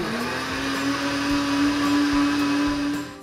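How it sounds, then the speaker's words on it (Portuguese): An electric kitchen blender whirs steadily at a high, constant whine while blending garlic and water into a broth, loud and close, with faint clatter from inside the jar and no speech. "E bater no liquidificador."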